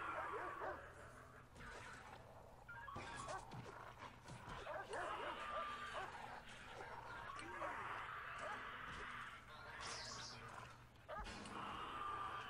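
A dog barks and yips in the prison-building game Prison Architect, short sharp cries scattered over a busy background of game noise, with a person talking over parts of it.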